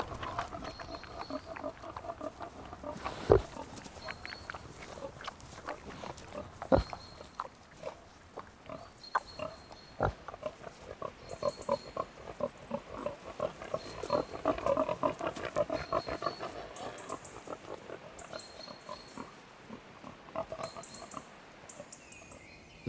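Pigs turned loose to forage on green acorns and beech mast in England's New Forest, with scattered grunts and snuffling rooting noises, plus a few sharp cracks, continuing at moderate distance across the woodland.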